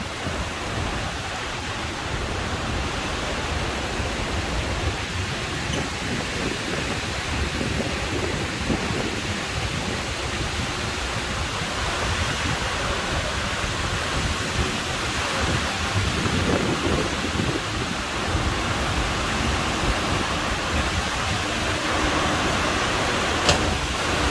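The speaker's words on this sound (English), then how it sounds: "And as you can see, the rain took off." Heavy rain pours in a dense, constant roar outside King Power Mahanakhon in Bangkok, Thailand, with low rumbles of thunder rolling underneath throughout.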